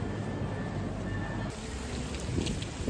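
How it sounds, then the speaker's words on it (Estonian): Hail falls outside a market, making a continuous dense patter of ice on surfaces. Scattered louder impacts stand out toward the end. "Tulime turult välja ja saime siukse rahesadu endale peale."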